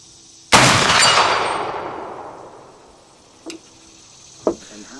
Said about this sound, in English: I'm going to try to ring the small steel plate with the 45-70 bullet